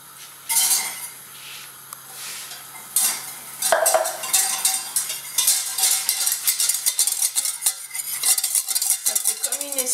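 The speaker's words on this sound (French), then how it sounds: "il faut mélanger avec la farine." Melted butter and flour being stirred together in a pan to make a roux for endives au jambon, with repeated clattering utensil scrapes against the pot, busy and close, broken by brief pauses.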